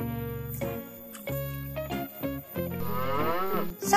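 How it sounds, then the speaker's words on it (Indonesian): A toy cow gives a series of electronic moo calls with a few short pauses between them, close and clear, with nothing else heard. "Sapi, yeay, benar."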